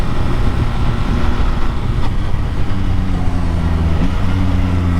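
A 2021 Yamaha MT-09 motorcycle on a test ride sends out a loud, continuous engine drone with rushing wind noise, and its pitch shifts as the rider moves through the gears.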